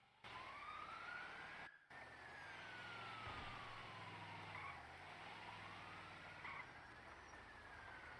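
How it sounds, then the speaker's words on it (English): A siren wails in a video game roleplay, its pitch slowly rising and falling in long sweeps, faint and distant against low engine rumble, with no talking. "I hear a siren somewhere."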